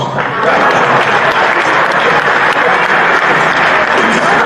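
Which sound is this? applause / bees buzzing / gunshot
applause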